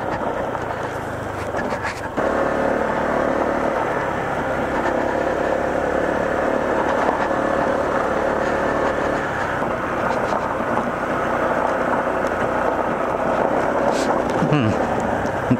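A Honda ADV150 scooter descending a steep forest dirt road on rear brake, a steady mid-pitched engine hum with wind rumble and gravel crunching, a rider talking over it throughout.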